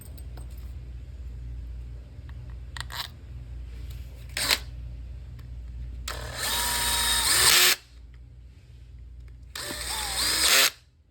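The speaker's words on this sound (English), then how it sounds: "now we're going to put the 5 motor screws in, which are the longer ones" A power drill drives the five longer motor screws into a pump motor after the pump head is attached, giving two sustained whirring runs of a few seconds each, close and loud, with brief shorter bursts and handling noise before them.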